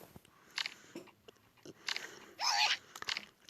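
Chewing gum close to the microphone, moist irregular smacks and clicks in short bursts separated by quiet gaps, one louder squelch near the end, no speech.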